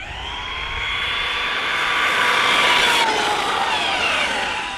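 A LOSI Super Rock Rey RC car on a speed run, a high electric motor whine that climbs in pitch, swells as it passes close, then drops away in a steady doppler sweep.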